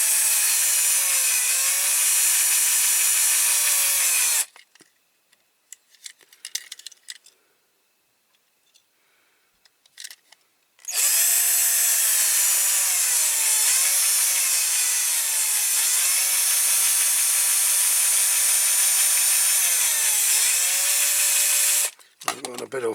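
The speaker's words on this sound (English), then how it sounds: "start off with a smaller drill bit as usual" Small drill bit boring into a centre-punched metal part while restoring a Dinky Toys Ford Anglia 105E die-cast model: a loud, steady, whining drill run, a pause filled with light handling clicks, then another long run and a brief final burst.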